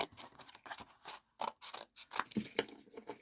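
Scissors cutting paper for a junk journal, a series of close, crisp snips in an irregular rhythm with short gaps between cuts, with no talking.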